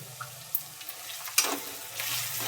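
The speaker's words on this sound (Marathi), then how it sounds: "असं परतून घेऊया" Pav bhaji with butter, chili powder, masala and coriander being sautéed in a pan, with a soft steady sizzle and a few spatula scrapes and stirs, close by and no talking.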